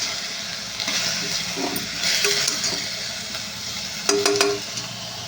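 Prawns frying in a pan on a gas stove, a steady soft sizzle with occasional stirring clatter and a brief sharper clink near the end, no talking.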